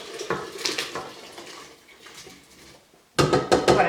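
Water, a large coarsely chopped onion and a pound of browned ground beef going into an electric pressure cooker, with rattling metal pot and utensil clatter, splashing pours and a loud burst near the end, close up.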